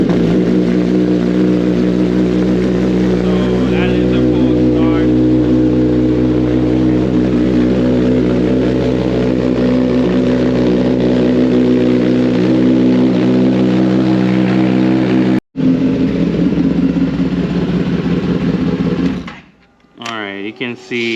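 A Kawasaki ZX10R motorcycle engine idles steadily while warming up during an oil change, a loud continuous low drone that holds for about fifteen seconds before a brief cut, then resumes with a voice talking over it.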